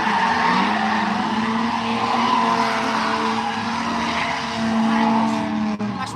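A drift car at Norfolk Arena slides with loud, sustained tire squeal and a steady engine roar, close and continuous throughout, with no talking.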